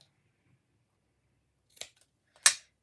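Scissors snip through material while making Christmas ornament decorations, two crisp separate cuts close up in an otherwise quiet room.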